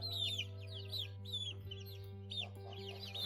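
Chickens cluck and chatter in short repeated bursts near a flock of geese, ducks and chicks, over a steady low hum, with no voices.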